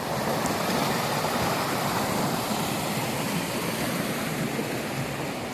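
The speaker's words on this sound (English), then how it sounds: "Walking alongside the Laurel Fork River." Laurel Fork River flowing along an Appalachian Trail section, its water swollen and full of sediment after rain, making a steady, broadband rushing wash that stays even and fairly close throughout with no voices.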